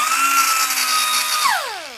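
A small pneumatic air sander with a 2-inch pad, driven by an air compressor, whines at a steady high pitch, then spins down with a falling tone near the end, close and alone.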